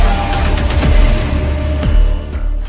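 Strikes in the Ukraine war set off blasts and rapid crackling bursts, booming and rumbling heavily, loud and sustained with a deep low roar beneath the repeated sharp reports.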